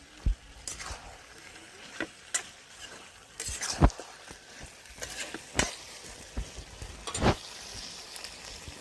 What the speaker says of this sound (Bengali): এবার আমি পুঁই শাকগুলো দিয়ে দেবো, দিয়ে আমি হালকা নেড়ে চেড়ে